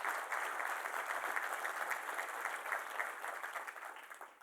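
An audience at a business breakfast applauding: sustained dense clapping from many hands that tapers slightly toward the end.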